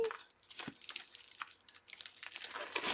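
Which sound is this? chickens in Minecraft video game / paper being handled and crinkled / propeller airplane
paper being handled and crinkled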